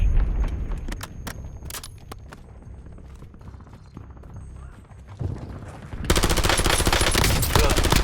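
Video game gunfire: a run of sharp rapid shots and bursts, mixed with other game effects, ending in a loud, dense stretch of sustained firing.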